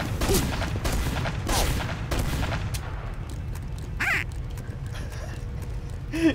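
Gunfire in Team Fortress 2 on the 2Fort map arrives as a rapid scatter of sharp game shots and impacts over a busy background, with several distinct cracks through the first half and a few later.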